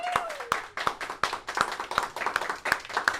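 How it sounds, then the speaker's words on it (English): A small group claps in a slow, uneven rhythm of distinct single claps, each clap sharp and close, during a live Kickstarter finale stream, with a faint tone fading out early on. "everybody give a round of applause for all those people"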